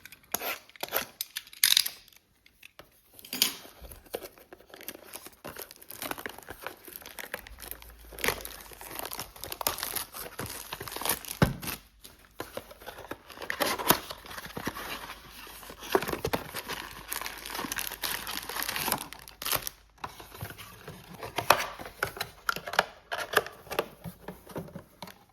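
Foil wrappers from a 2025 Donruss Football Blaster box crinkle and tear close up, in bursts of sharp rustling and crumpling separated by short pauses, with no talking.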